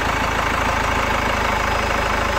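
A Chevrolet Captiva facelift diesel turbo engine idles roughly with a steady, close, loud rumble and a faint knocking clatter.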